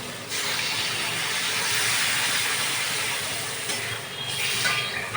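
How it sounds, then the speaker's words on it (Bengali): Water poured into hot, cooked-down spice masala with fried potatoes for an egg-and-paneer curry, giving a loud, steady steamy hiss and sizzle that runs almost the whole time. "এবার আমি এর মধ্যে জল ঢেলে দেবো"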